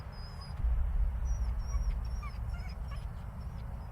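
A dog whimpers and yips in a run of thin, high whines over a low rumbling background, close and fairly quiet.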